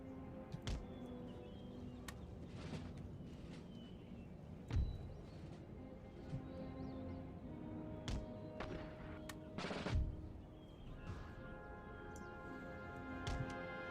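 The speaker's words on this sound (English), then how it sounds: "Okay, enemy shrapnel's whipping in." Enemy artillery shrapnel fire in the Empire Total War battle game: repeated sharp cracking bursts and whipping impacts at irregular intervals over a steady din of distant gunfire, with no talking.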